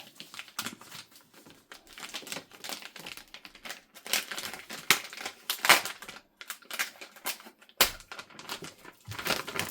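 Close-up crinkling and crunching of stiff plastic packaging being cut with a knife in irregular bursts, with sharp scraping cuts and pauses between, no voices.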